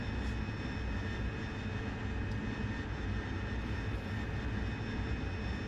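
Steady, loud roar of a Harrier jet engine in the DCS World flight game, a continuous broadband rumble with a constant whine holding unbroken throughout.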